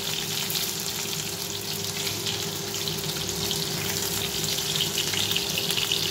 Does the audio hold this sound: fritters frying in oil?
yes